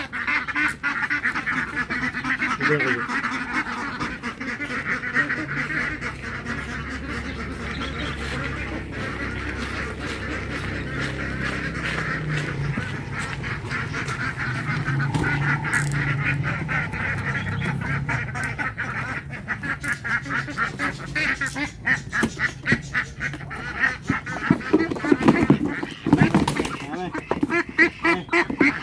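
Ten crested jamboi ducks kept on a garden plot quack and honk loudly and repeatedly close by, a busy overlapping flock chorus with someone briefly speaking over it.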